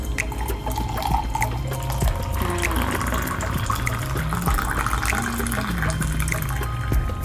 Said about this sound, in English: Put my hot water in here.